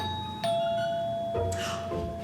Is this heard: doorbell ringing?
yes